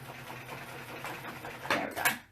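A sewing machine stitches the edge of a fox-shaped coin pouch, a soft, quiet rapid whirring hum that ends in a couple of brief louder bursts.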